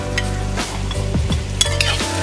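Onion and green chilli stirred around a frying pan, with steady sizzling and several scraping strokes of a spoon against the pan, close and fairly loud.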